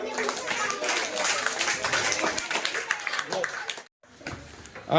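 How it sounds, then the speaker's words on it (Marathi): Schoolchildren clapping in a classroom, a burst of close, fairly loud, uneven claps that fades out, followed by a short pause and then a voice speaking. "टाळ्या वाजवा"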